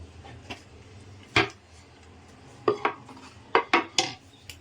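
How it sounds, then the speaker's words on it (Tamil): Spoon clinking against a bowl while cake batter made from leftover rice is mixed with chopped almonds and cashews: several sharp, close metallic knocks at irregular intervals over quiet room tone, with no talking. "நல்லா மிக்ஸ் பண்ணுங்க கைவிடாமல் கலக்கிட்டே இருங்க"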